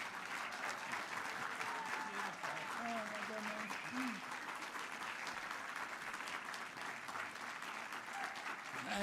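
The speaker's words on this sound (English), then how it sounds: "Please stand up and give him the applause and the thank you he deserves." Steady audience applause at a government event celebrating new American dietary guidelines, a dense, even wash of clapping from a large crowd that holds for the whole stretch without any voices.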